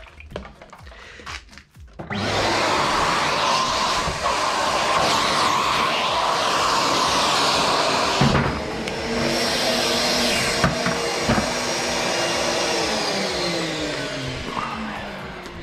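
A vacuum cleaner cleaning a car's seat belts runs loud and steady close by after switching on, with its pitch dipping and shifting as the nozzle catches and moves.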